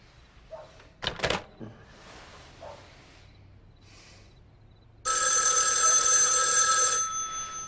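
A telephone bell rings loudly for about two seconds after a few faint clicks and knocks, then fades out.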